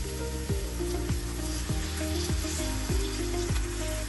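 Potato and soybean curry sizzles steadily in a pan after water is poured in, a continuous close frying hiss with several soft scraping stirs spaced through it, and no voices.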